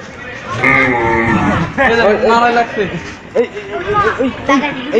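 Cattle low at a busy outdoor livestock market, repeated moos rising over crowd chatter and nearby voices talking throughout.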